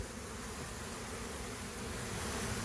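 Dense, steady buzzing of many honey bees close by, a continuous droning hum with no pauses and no voices.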